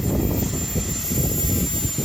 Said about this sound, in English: First, I did a stationary test and cranked up the jet fan.